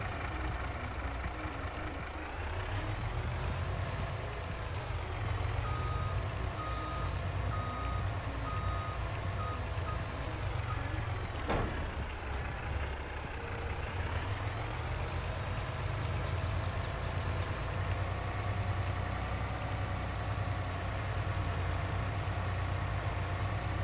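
A semi truck in Farming Simulator 22 idles with a low, steady diesel rumble while a reversing alarm beeps in a regular, even rhythm, continuous and close, without speech.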